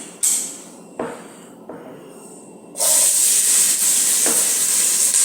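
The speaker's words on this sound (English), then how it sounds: "you can hear that sizzling sound" Onions hit hot oil in a pot for vegetable soup with a few sharp crackles, then a loud, steady sizzle takes over and keeps going close up.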